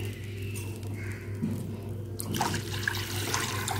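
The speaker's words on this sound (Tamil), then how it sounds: "இப்போ இதில் தண்ணி ஊற்றிக்கலாம்" Faint background hum, then water starts pouring into a pot partway through for cooking aval (flattened rice) pongal, a splashing, gurgling stream close by.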